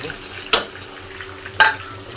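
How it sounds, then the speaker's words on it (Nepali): Ginger and garlic frying in a pan for chicken achar, a close steady sizzle broken by two sharp stirring scrapes about a second apart. "अदुवा लसुन यसरी फ्राई गर्नुपर्ने हुन्छ"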